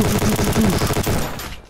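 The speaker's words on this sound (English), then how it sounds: "I'm gonna give him covering fire." Rapid automatic gunfire from the video game Ancient Warfare 3 during an amphibious beach assault, a dense continuous burst of shots that fades out at the end.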